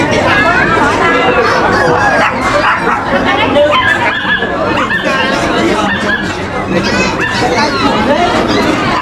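Chickens and other poultry at a Vietnamese village market before Tet, clucking under steady crowd chatter with dogs barking and yipping nearby, people talking throughout.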